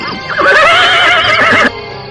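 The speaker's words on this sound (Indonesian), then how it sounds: "Putri Raja Dewi menuntun 2 ekor kuda ke halaman depan." Radio drama sound effect of horses neighing at night, a loud, close whinny with wavering pitch lasting over a second before cutting off into quiet background.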